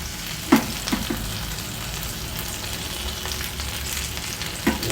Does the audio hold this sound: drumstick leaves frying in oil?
yes